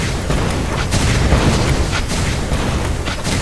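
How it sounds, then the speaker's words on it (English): Corki's missiles blasting in League of Legends: a run of loud, booming explosions with sharp bursts at intervals over a rumbling low end, and no talk. "Corki fires a missile, explodes at the first enemy it hits, dealing magic damage to all nearby enemies"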